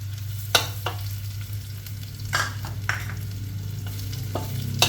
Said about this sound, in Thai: แล้วก็เห็ดหอมลงไปผัดก่อนนะคะ